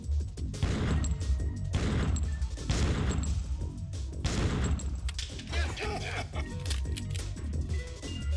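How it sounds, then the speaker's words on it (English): Repeated gunshots and crashing impacts from the Killer7 video game, loud bursts of fire recurring every second or so over a steady music bed, with a player talking over the action. "I can shoot these all day."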